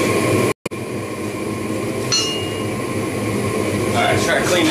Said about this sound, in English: So back in the forge.